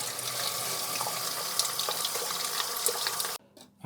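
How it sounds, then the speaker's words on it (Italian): Water runs steadily from a reopened household tap. The rush is strong and even, then stops abruptly near the end. "riapriamo l'acqua dal rubinetto"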